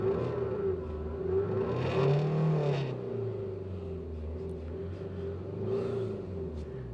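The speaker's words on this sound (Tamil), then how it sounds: "அந்த இன்ஜினை ஸ்டார்ட் பண்ண உடனே லைட்டாக கேட்குதுங்க இன்ஜின் நாய்ஸு" A Tata Altroz engine idles just after starting, a steady low hum with a brief swell in revs early on before settling into an even, moderately quiet drone heard from inside the car.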